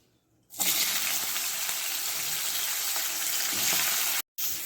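Bitter gourd frying in hot oil, a loud, steady sizzle that starts suddenly and crackles on without a break. One short gap comes near the end, with no voices.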